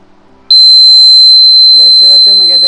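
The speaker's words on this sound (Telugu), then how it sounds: "చాలా హెవీ బీప్ సౌండ్ అయితే వస్తుంది అనమాట" A homemade fire alarm buzzer, triggered by a heated filament, starts with a click and sounds a loud, continuous high-pitched electronic beep, with a voice talking over the latter part.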